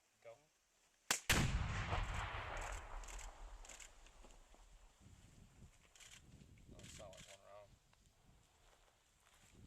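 A bomb set off with two blocks of plastic explosive in a field in Afghanistan explodes in a single sharp, heavy blast, followed by a long rumbling roll that fades under later voices.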